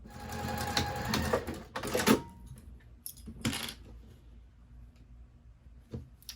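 A sewing machine runs in short bursts stitching a 1/4 inch seam on a scrap fabric bin, close clattering runs separated by pauses, with faint handling clicks in between and no talking.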